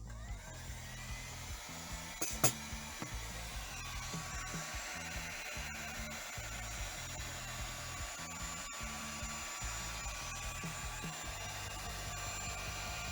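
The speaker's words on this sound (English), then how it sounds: "Pick up with the old handy dandy heat gun." A heat gun blows in a steady, close whir while warming a 1970s Chevrolet horn pad under repair, with a faint, regular low pulsing running through the airflow.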